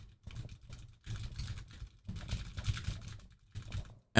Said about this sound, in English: I have a nice mechanical keyboard.